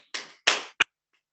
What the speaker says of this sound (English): I got 2 hand claps.